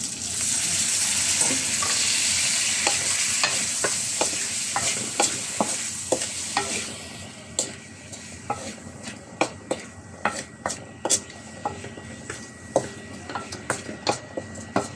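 Chicken chop suey stir-fried in a pan after soy sauce goes in. A loud, steady sizzle fades gradually, and a spatula scrapes and clinks against the pan in close, regular strokes.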